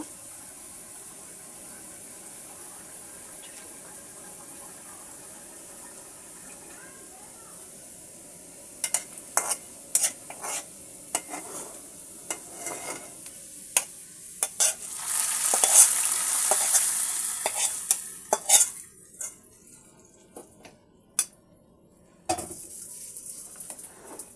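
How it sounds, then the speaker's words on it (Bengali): Onion and garlic tossed into taro corms (kochur mukhi) in a frying pan: a quiet steady sizzle, then from mid-clip sharp clacks of a spatula against the pan and louder bursts of frying, no talk. "এবার পেঁয়াজ এবং রসুনটাকে আমি কচুর মুখির মধ্যে দিয়ে দেব।"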